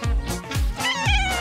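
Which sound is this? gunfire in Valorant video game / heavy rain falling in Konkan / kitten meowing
kitten meowing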